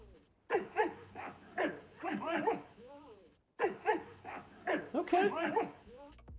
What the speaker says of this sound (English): it sounds like a dog barking